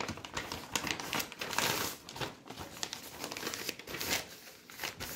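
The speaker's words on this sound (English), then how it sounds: "I'll be taking a piece of paper." A sheet of paper handled and crinkled up close at a desk, with irregular rustles, crumples and sharp crackles coming in bursts; fairly quiet, with no talk.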